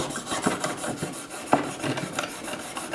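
A knife blade rasps against sandpaper in short, uneven scraping strokes, close and moderately loud with one sharper scrape midway, no voices.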